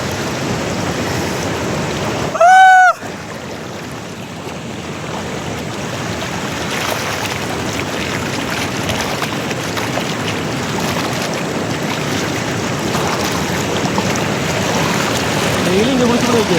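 Roaring water at Athirappilly Waterfall in Kerala, a steady broadband rush filling the whole clip, with a brief loud tonal chirp near the start.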